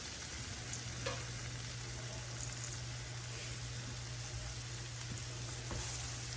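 Thin-sliced small red onion sizzling in butter in a pan, a steady close hiss with faint stirring clicks and no talk.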